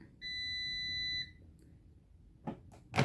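A Cosori Dual Blaze air fryer timer sounds a single steady electronic beep of about one second, close and clear, followed by faint clicks and handling noises in a quiet kitchen.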